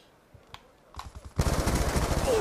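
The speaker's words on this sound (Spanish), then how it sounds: "Yo disparo a ese y hay otro disparándome a mí." Automatic gunfire in Call of Duty Black Ops 2 during a team deathmatch: a few scattered single shots, then a loud, continuous machine-gun burst with rapid, evenly spaced reports that runs to the end.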